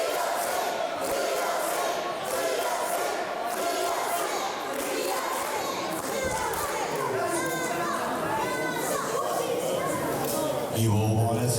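A wrestling crowd at a Fight Factory show roars and chants steadily throughout, dense and loud, with voices shouting over the mass of noise.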